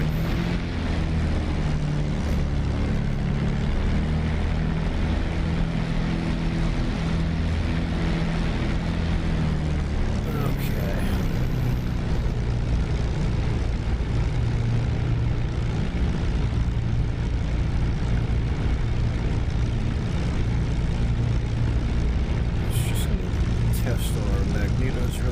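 A P-51 Mustang's piston engine and propeller idling steadily in DCS after a cold start, a continuous loud low drone throughout with a faint voice talking over it.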